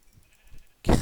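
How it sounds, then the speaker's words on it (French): A single short sheep bleat from the Minecraft game, loud and close, arriving abruptly at the end after a near-silent moment. "Ah voilà, là il y a des moutons."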